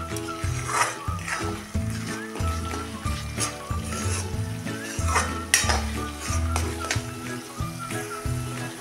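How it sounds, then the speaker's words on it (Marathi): Spices sauté in oil in a pan while a spoon stirs and scrapes against the metal, giving a steady sizzle with repeated clinks and rhythmic stirring strokes close by. Faint background music plays underneath. "हे पण आता मसाल्यामध्ये चांगले आपण परतून घेऊया। बघा, आता एकसारखं असं चांगलं परतून घ्या।"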